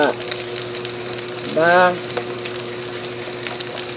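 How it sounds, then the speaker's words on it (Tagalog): Eggplant fries in hot oil in a pan with a steady, loud sizzle throughout, and a voice speaks briefly near the start. "ilagay na natin yung talong para i-cook po natin siya, mga kacheka. So, careful po kayo pag nagpiprito kasi mainit yung mantika"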